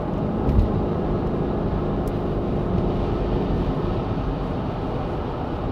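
A cheap V8 Range Rover with its gearbox in sport mode accelerates toward 70 mph, its engine and road noise forming a loud, steady cabin rumble with a slight surge early on.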